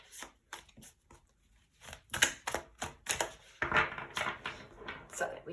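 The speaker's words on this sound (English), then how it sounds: "let's shuffle it good." A deck of tarot cards being shuffled by hand, with irregular papery riffles and taps building into denser bursts, close and fairly quiet, alone without talk.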